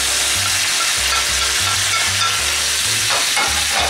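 Cuttlefish and vegetables, artichokes among them, sizzling in hot oil while being stirred, a dense continuous frying crackle with a repeating low scraping rhythm of a utensil moving through the pan.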